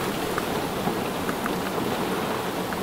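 Big raindrops pour down in a heavy shower at a wind farm, a dense, steady hiss of rain striking surfaces with scattered louder individual drop impacts, close and continuous with no voices.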